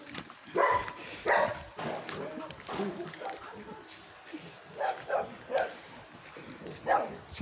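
Dog barks and whimpers in short bursts at close range, mixed in among a man's repeated calls and other talk outdoors.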